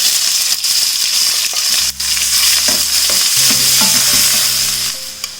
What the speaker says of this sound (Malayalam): ഈ സവാള ഇതിലേക്ക് ഇട്ടിട്ട് വഴറ്റി കൊടുക്കാം.